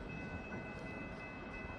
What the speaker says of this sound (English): The train coming through during our interview.